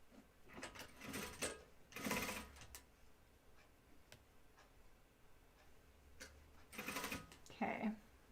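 A sewing machine stitches a Closet Core Patterns Blanca flight suit in short separate bursts of rapid needle clatter, separated by quiet gaps with faint ticking handling sounds, fairly close and moderately quiet.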